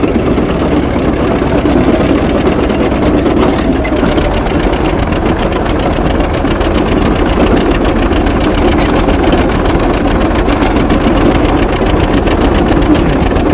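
An International TD-6 crawler's diesel engine, which has a misfire, runs loud and close, with a dense, continuous mechanical clatter and no pauses.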